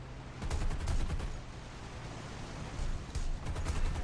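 Rapid bursts of heavy automatic aircraft cannon fire in the game War Thunder, rattling in loud clusters over a constant engine drone, with no talking.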